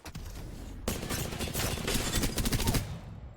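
Rapid automatic gunfire from a gun fired for the first time in Apex Legends, rattling in dense sustained bursts that run for a couple of seconds before cutting off.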